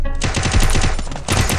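Rapid bursts of automatic gunfire in a shooter video game, loud and close, with a steady rattling rhythm that pauses briefly before another short burst.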